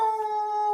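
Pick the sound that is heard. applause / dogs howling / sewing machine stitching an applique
dogs howling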